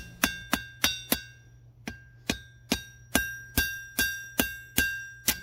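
Hammer blows on hot metal while forging a spear point, about a dozen sharp ringing strikes in a steady rhythm with a brief pause early on, each clink loud and close with a bright metallic ring.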